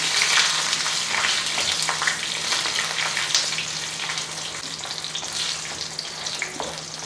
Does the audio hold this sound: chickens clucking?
no